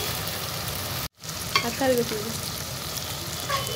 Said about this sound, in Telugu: మనం శుభ్రం చేసిన చికెన్ అయితే వేసేసుకుందామండి